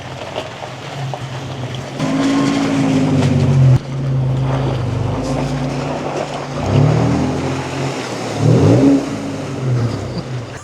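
An Audi Q7 TDI diesel SUV driving off-road through deep water, its engine droning and rising in pitch as it pushes through, with water sloshing and wind buffeting the microphone; no talk.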